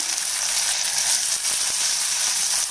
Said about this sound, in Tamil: இப்போ இதை நல்லா வதக்கி விட்டுக்கலாம்